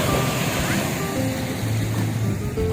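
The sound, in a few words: sea waves at high tide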